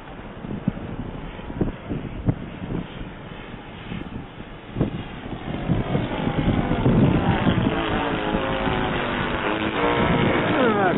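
A Jamara Extra 300S RC model plane with a 1.85 m wingspan on its first flight: a buzzing engine and propeller drone that rises and grows steadier and louder in the second half, mixed with handling bumps and wind noise.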